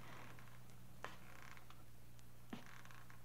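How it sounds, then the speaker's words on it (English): Old wooden stairs in a house creak in two short, sharp groans spaced about a second and a half apart, faint over a low steady hum in a radio drama sound effect. "I heard the feet coming up the stairs, or was it just the creaking of the old house?"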